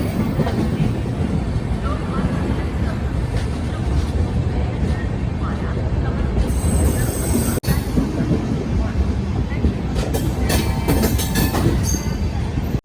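The 14650 Saryu Yamuna Express passenger train rumbles steadily from inside a coach, with wheel clatter and a brief squeal, loud and continuous, as a voice is heard over it.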